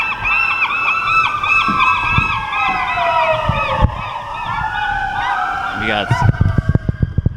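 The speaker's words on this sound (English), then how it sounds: "We got sirens out here too" Wailing sirens rise and fall in the distance under constant outdoor noise, with honking bird calls and a burst of squawks near the end.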